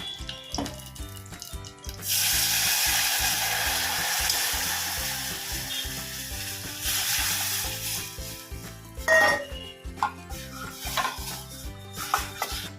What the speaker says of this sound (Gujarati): એટલે આપણે કઢીને વઘારી લેશું